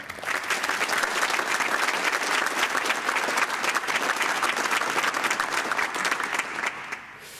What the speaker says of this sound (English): maybe you join me in a round of applause for all these people who do this hidden work.